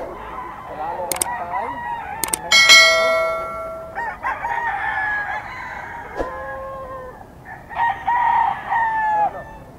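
A young gamecock crows at a rooster sale in Bocaue. Several loud, close crows rise and fall in turn, with faint background voices.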